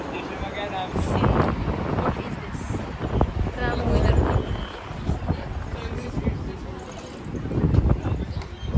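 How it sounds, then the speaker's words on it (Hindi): Wind blows outdoors, buffeting the microphone with a steady low rumble and gusty surges throughout, while muffled voices carry along underneath. "हवा चल रही है"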